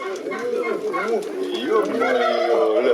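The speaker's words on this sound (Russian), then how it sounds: "Индюки, а?" Turkeys gobbling and warbling in a busy cluster of overlapping calls, fairly close, with a voice speaking faintly among them.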